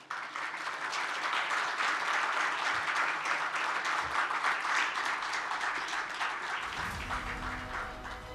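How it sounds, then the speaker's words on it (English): A conference hall audience gives a warm, sustained round of applause for a speaker taking the platform at an African financial resilience meeting, dense clapping throughout that tapers slightly at the end. "very warm round of applause"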